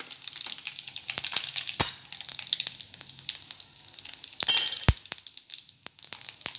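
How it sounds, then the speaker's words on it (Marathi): Cumin and mustard seeds hit hot oil in a pan with a quiet, steady sizzle and scattered pops and crackles, plus a couple of sharp clinks from a utensil. The oil is for a traditional Maharashtrian cluster bean sabzi. "तेल आपलं आता गरम झालेलं आहे, त्यामध्ये जिरे टाकायचे,"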